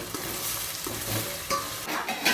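Onion, tomato, coriander, curry leaves, garlic, cumin and mustard seeds sizzle in hot oil for a tempering, with brisk stirring scrapes over a continuous fry that flares louder near the end.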